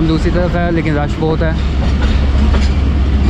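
Train pulling into Farrukhabad railway station on a crowded platform, a steady loud rumble of wheels and carriages running under someone talking close by.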